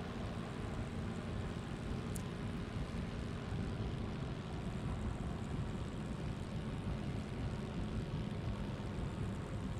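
A Messerschmitt BF-109 fighter in Il-2 Sturmovik: Battle of Stalingrad comes in to land, its propeller engine droning steadily and loud throughout, a broad unbroken roar with no voices.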